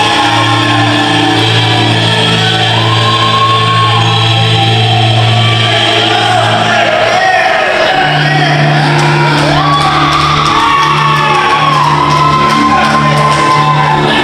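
Wrestling crowd at an HCW Freedom Fight Night show roaring and shouting for the returning Diesel Dog, Nate Hammer; a loud, sustained arena din of yells and whoops that swells midway, with no clear talk on top.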